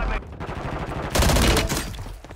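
Gunfire in the video game Warzone 3, rapid bursts of automatic shots rattling close and loud, with a heavier volley midway, under occasional talk.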